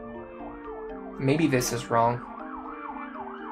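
Emergency vehicle sirens wail outside in a steady rising-and-falling pattern, fairly loud and continuous, with a person talking over them partway through.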